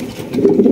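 Fancy show pigeons in a dealer's pen coo in a low, throaty stream that swells in the second half, close and fairly loud with no talking.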